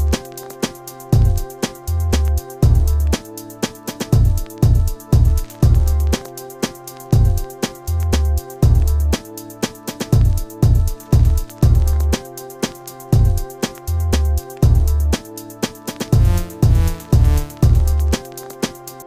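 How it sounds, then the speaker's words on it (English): Electronic beat in waltz-like 3/4 time with punchy kick and snare drums, a deep bass synth and sustained pads, looping steadily and evenly for the whole stretch with no voice over it. "I have some drums, a bass synth, some pads, some texture."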